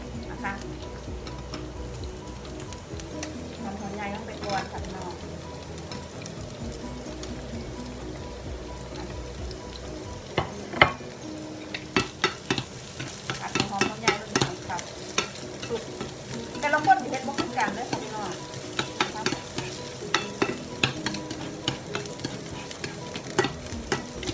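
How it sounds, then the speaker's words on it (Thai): Onions fry and get stirred in a pan while making sweet and sour chicken, a soft sizzle with scattered scraping and tapping that grows busier in the second half, a voice talking now and then. "หอมหัวใหญ่ลงไปก่อนค่ะ"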